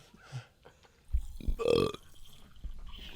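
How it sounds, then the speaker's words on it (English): A single loud, drawn-out burp right into the microphone, close and bassy, with faint bits of talk and small handling noises around it. "Burp in the microphone."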